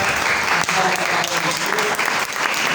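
Congregation in a French-speaking church applauding together, loud steady clapping that fills the whole moment without speech.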